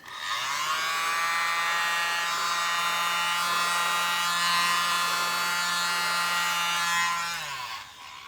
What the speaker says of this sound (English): I'm gonna use my little mini blower.